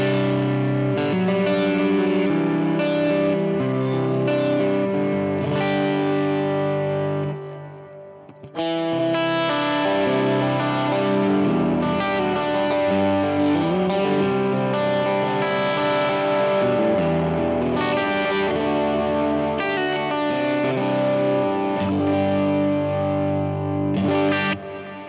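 A worship-style electric guitar rings through a Strymon Big Sky hall reverb on a pedalboard with a Strymon Iridium, its lush sustained chords swelling into a long wash, loud and continuous apart from one brief dip, with no voices.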